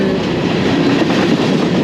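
A freight train rolls steadily past on a line toward New York City, a loud, continuous rumble of wheels and rail cars close by, with no voices.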